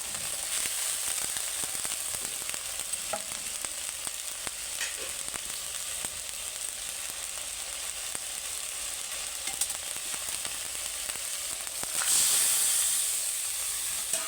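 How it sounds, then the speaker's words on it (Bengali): Spice masala with tomato fried and stirred in a pan for a potato and fish curry, a continuous close hissing sizzle with faint stirring scrapes that swells louder near the end, with no talking. "মশলাটা ভালো করে কষিয়ে নেব"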